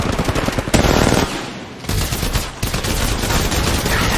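Loud, dense automatic gunfire from the video game Apex Legends Mobile crackles in rapid bursts, close and nearly continuous, with one short dip partway through.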